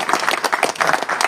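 An audience at a DMK political gathering claps for their MLA, a brief burst of dense, loud applause with irregular overlapping hand claps.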